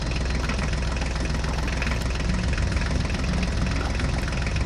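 Mini tractor engine running steadily near farm trolleys, a loud, dense, continuous low rumble with a fast knocking pulse and no break across the whole stretch.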